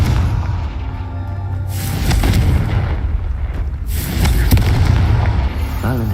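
Confringo explosion spell in a video game, two loud booming blasts a couple of seconds apart, each a broad crackling burst over a continuous rumbling background.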